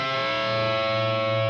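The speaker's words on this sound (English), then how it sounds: "That's called an oblique bend, where you have essentially two different notes during a bend." A distorted electric guitar plays an oblique bend, with two notes sounding together while one pitch is bent, as one brief, sustained, loud chord.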